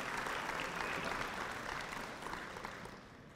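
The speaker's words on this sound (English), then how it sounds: "Let's give them a round of applause, all the Ring of Honor members that helped organize this." An audience at a high school Ring of Honor ceremony claps for the organizers, steady full applause that gradually thins and fades toward the end.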